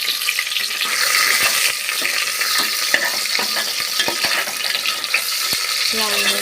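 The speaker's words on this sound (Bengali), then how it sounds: "লাল লাল করে পেঁয়াজটা ভাজবো ভালো করে।" Chopped onions frying in hot oil with bay leaves, a loud, steady crackling sizzle with stirring clatter throughout.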